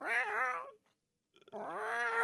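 A domestic cat lets out two loud, drawn-out yowling meows close by, separated by a short quiet gap, with no talking over them.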